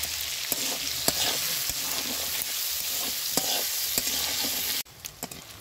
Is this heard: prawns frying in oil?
yes